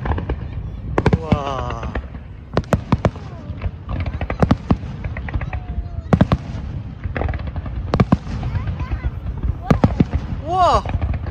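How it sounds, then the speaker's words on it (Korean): Fireworks bursting in a rapid series of sharp cracks and booms, some with crackling and whistling trails, quite close, while people exclaim and chat excitedly throughout. "어? 불꽃놀이 저기 봐봐."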